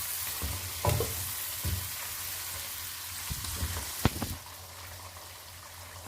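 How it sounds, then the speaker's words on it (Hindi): Chicken fries with achari masala in a pan over high flame, giving a steady close sizzle broken by repeated scraping clatters of stirring. "इसको हम हाई फ्लेम पे ही पकाएंगे"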